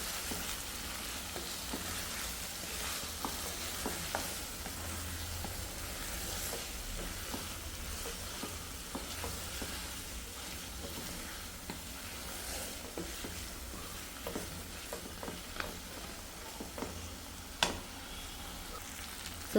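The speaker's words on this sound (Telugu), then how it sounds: "ఈ స్మెల్ పోయే వరకు బాగా వేయించుకున్నాం ముక్కల్ని" Chicken pieces fry in ginger garlic paste in a pan, giving a steady, close sizzle with occasional crackles and light stirring scrapes throughout, with no talking.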